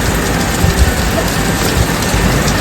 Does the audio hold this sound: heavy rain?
yes